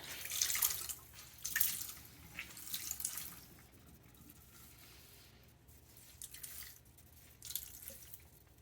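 Green-dyed wool is rinsed under a running tap, giving faint splashing and dripping water in uneven bursts, quiet and close, with no talking.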